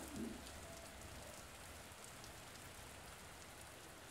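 Steady, soft hiss of rain falling outside, a constant even patter with no voices.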